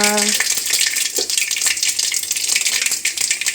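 Mustard seeds and cumin sizzle in hot oil with a steady, bright frying hiss and small crackles, close and fairly loud, with a brief low tone at the very start.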